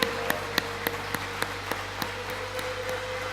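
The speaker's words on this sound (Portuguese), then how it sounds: "Uma salva de palmas para Jesus." A church congregation applauds during a sermon with sparse, spaced hand claps over a steady background hum, the claps fading in strength as they go on.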